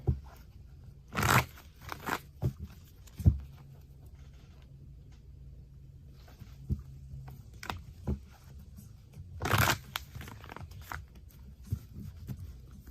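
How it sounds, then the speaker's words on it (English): Tarot cards being shuffled up close in a few quick riffling bursts, separated by quieter handling noises and soft taps. "Let me shuffle that one more time."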